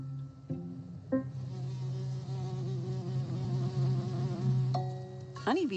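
Honeybees buzz while foraging at flowers, a close, sustained tonal hum whose pitch wavers and shifts as individual bees move nearer and away, with brief sharper buzzes at the start and end.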